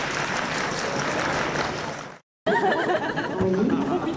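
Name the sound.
audience applause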